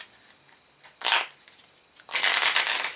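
A deck of game cards being gathered and shuffled, two crisp riffling bursts close by, the second longer, with light handling between them.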